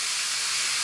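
Potatoes hit hot oil with whole cumin seeds in a pan, a loud, even, close-up sizzling hiss that holds steady for under a second.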